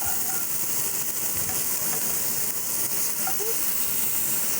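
Thin pork breakfast sausage frying in a pan gives a steady, even sizzle that hisses continuously without pause.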